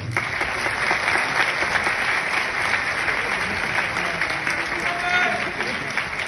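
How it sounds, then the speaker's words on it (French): Audience applause at a kickboxing event honoring fighters and boxers, loud, dense, sustained clapping from a large crowd filling the room throughout, with faint voices mixed in. "je vais vous demander un tonnerre d'applaudissements"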